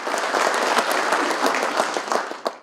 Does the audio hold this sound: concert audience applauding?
yes